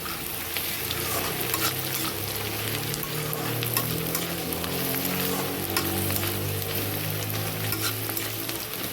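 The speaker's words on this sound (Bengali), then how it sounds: "এদিকে পেঁয়াজটা একটু ভাজা ভাজা হয়ে এসছে" Onions sizzle and crackle steadily in a hot pan, a loud continuous frying hiss with occasional stirring, no voices.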